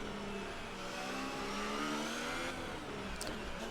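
A Ferrari-engined Formula 1 car from the F1 2019 game, with a steady, close, high-pitched engine whine that rises slightly while held at speed, alone without voices.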